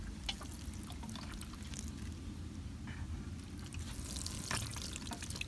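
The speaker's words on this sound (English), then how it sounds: "Give it some water since it's one lonely cilantro." Water pours onto a lone cilantro plant in a garden container, a soft steady trickle and splash into soil with faint outdoor background, no voices.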